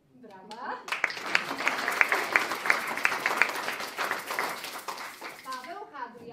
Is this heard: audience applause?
yes